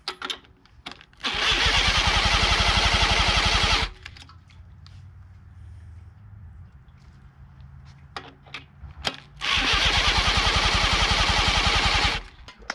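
Someone cranks a 1940s Johnson Seahorse KD15 outboard boat motor with a starter, giving two loud, sustained rhythmic cranking bursts of about three seconds each. The engine does not catch. Quieter clicks and handling noises fill the gap between the bursts.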